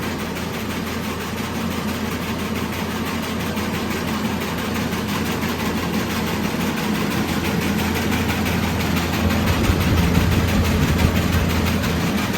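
A Grandmash winnowing machine runs steadily throughout, a continuous mechanical drone with broadband rattling and hiss, constant in level with no pauses.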